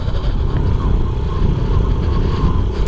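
A 1993 Honda Z50R mini motorcycle engine labors close up on a steep climb, a loud, continuous rough buzz with slight throbbing.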